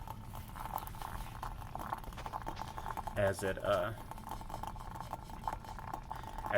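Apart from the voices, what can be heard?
salt water boiling hard on hot plate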